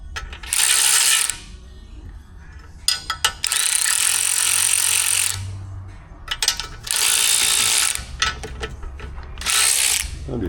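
A ratchet wrench backs a nut off during collision repair on an AWD Jeep Compass, with loud, close bursts of rapid clicking separated by short pauses.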